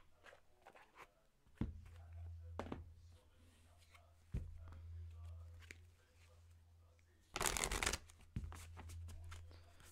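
Tarot cards are shuffled and handled in a reading, with several brisk riffle bursts, a longer loud shuffle near the end, and soft taps and slides between them, heard up close.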